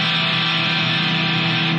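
Distorted electric guitar struck hard with the unmuted strings left ringing, a dense, loud, continuous wash of noisy sustained tone lasting the whole moment, without speech.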